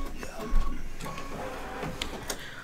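An embroidery machine stitching a baseball in-the-hoop mug rug, giving a fast mechanical chatter with rhythmic clicks and thumps, close and fairly loud, with no talk.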